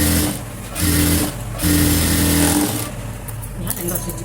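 Sewing machine stitching fabric while sewing a frock's back neck: a loud, close motor whir running in bursts that speed up and pause, with someone talking over it.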